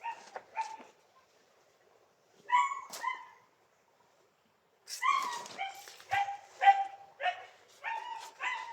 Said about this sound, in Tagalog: Ayun oh, may aso.